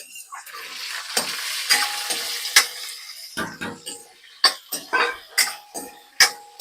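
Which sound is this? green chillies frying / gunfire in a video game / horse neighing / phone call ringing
green chillies frying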